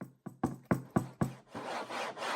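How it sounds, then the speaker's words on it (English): Knuckles knock on the hard shell of a PowerA PlayStation Portal carrying case: five close, crisp, hollow raps in a quick steady rhythm, followed by a softer rubbing, scraping sound against the shell. "The hard shell sounds like this,"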